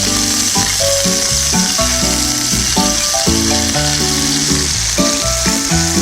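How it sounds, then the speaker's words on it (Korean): Seasoned chicken legs sear in an oiled frying pan with a constant, bright sizzle that continues steadily, while soft background music plays underneath and no one speaks. "일단 양쪽 표면을 노릇하게 살짝 구워줄 거예요."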